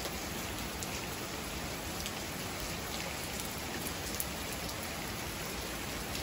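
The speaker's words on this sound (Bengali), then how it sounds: "প্রচুর বৃষ্টি হইতেছে, ভালো লাগে আমার কাছে মাঝে মধ্যে বৃষ্টি" A heavy downpour falls in a steady, even hiss of dense raindrops, uniform and unbroken throughout, with no voices.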